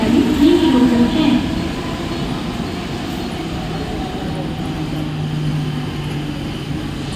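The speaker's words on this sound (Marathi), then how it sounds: "प्लॅटफॉर्म क्रमांक 1 पर आलेली लोकल 9:02 की बदलापूर जाने वाली धीमी लोकल है" A Mumbai local train at night on the Diva railway station platform makes a steady loud rumble, with a public-address voice talking over it.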